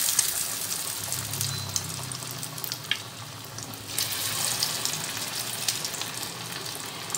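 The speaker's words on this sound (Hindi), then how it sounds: "सेम इसी तरह से हमें ये इस मछली को डिप करके मछली तल लेनी है" Battered fish fingers frying in oil over medium-high heat, a steady close hiss and crackle of sizzling that runs throughout with small spattering pops.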